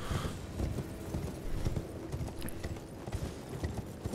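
A horse gallops while being ridden in the video game Elden Ring, its hoofbeats pounding in a steady, rapid rhythm throughout, with no talking.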